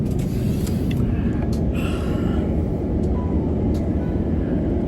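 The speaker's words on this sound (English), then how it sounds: "we are pulling into our gate right now" Singapore Airlines Airbus A350 taxiing to the gate after landing in Sydney, a steady low engine rumble and cabin hum heard from inside, with a few faint clicks and rattles.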